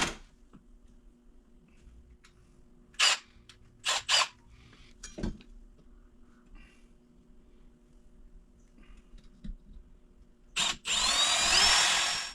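A power drill makes holes in a wall to mount a tire rack, with short separate whirring bursts, then quiet clunks, and a longer loud burst of drilling at the end.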